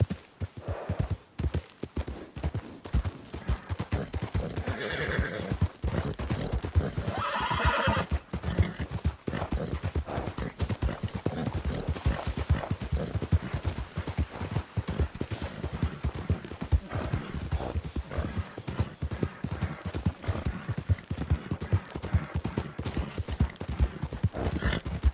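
Horse hooves clip-clopping at a gallop in a Red Dead Redemption 2 Wild West setting, a steady rapid rhythm close by with whinnies and neighs over it, plus faint distant gunfire.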